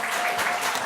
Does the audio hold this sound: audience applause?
yes